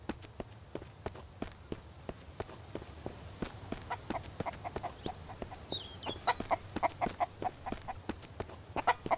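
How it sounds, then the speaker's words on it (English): Footsteps thud in a steady walking rhythm in the survival video game Mist Survival, with a chicken's short clucks and squawks joining faintly over the second half. "Run, floating chicken."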